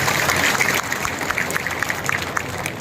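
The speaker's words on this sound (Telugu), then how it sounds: "నిజంగా ఇల్లు వచ్చినా అన్న ఉంటే గట్టి చప్పట్లతో ప్రభుత్వానికి తెలియజేయండి." A crowd at a public housing-allotment event in Choutuppal claps loudly, dense applause that starts strong and eases slightly but keeps going to the end.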